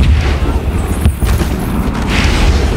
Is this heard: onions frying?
no